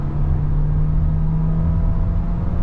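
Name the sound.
2023 VW Taos accelerating with turbo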